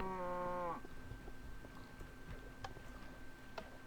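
A cow moos in a blocky crafting video game, one short, fairly loud low call at the start, followed by quiet in-game ticking and faint background sounds.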